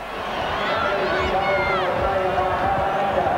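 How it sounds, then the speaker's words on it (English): A loud, sustained crowd roar fills a stadium at a 1991 New Zealand versus Australia rugby league test in Brisbane, holding steady as a broad wash of cheering throughout. "the crowd roars here as Australia takes an early break"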